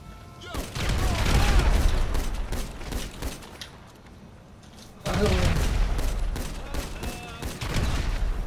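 Rapid bursts of video game gunfire crackle in dense volleys, pausing briefly midway before another sustained barrage.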